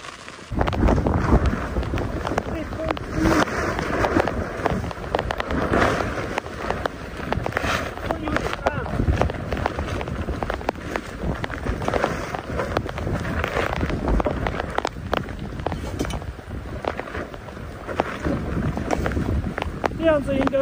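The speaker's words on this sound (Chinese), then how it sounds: "哎呀，刮风了。" Wind gusts buffet a tent pitched for an overnight rainy camp in a parking area beside Xinjiang's 101 national defense highway, a continuous rough roar and flapping with steady rain noise throughout.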